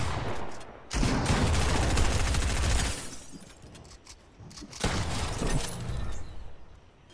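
Rapid bursts of gunfire in the Fortnite video game, a dense volley of shots for about two seconds, then quieter scattered shots and a second burst, loud and close with no talk.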